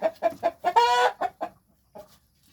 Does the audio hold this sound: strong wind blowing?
no